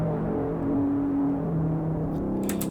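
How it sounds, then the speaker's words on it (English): A heavy, distorted braam swells with a dark, menacing low drone, sustained and loud for a few seconds, then cuts off abruptly with a brief noisy tail. "Kind of this just distorted, menacing sound where if you want something to sound big and kind of scary"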